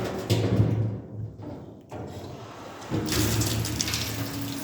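Water runs from a household tap while a hot water heater is tested, a steady broadband gush that pauses briefly around the middle and then returns stronger, with no voices.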